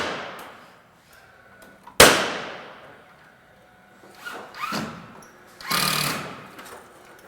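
A power tool drives screws into ceiling starter board overhead, with short whirring bursts of the driver separated by quiet gaps and a sharp knock, heard close up without talking.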